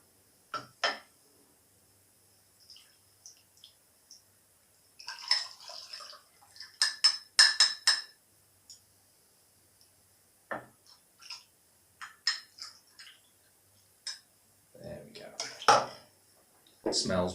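Mulled cider being dished up into glasses: sparse clinks of ladle, pan and glassware with small liquid sounds, spread out in short bursts between quiet gaps, with a person talking at times.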